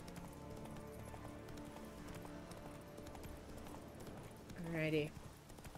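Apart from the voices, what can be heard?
horse Roach galloping in video game The Witcher 3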